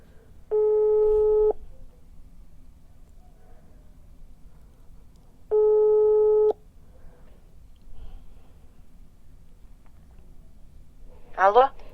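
A telephone busy signal sounds during a call to a prize-draw winner: two steady one-second tones separated by a pause, with faint room noise between them and a short chirping blip at the end.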